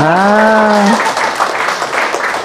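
A seminar audience at a herbal products business event breaks into applause after a sustained voice fades, the clapping filling the rest of the clip as an even, fairly loud patter.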